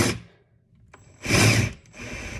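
A Ryobi cordless drill on a fully charged battery, set to drill mode, whirs close by in two short, loud bursts separated by a brief lull.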